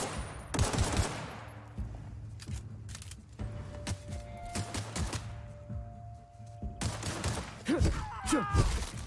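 Rifle gunfire from The Outer Worlds, with shots cracking in bursts and scattered single reports over a low game rumble, near and fairly loud throughout.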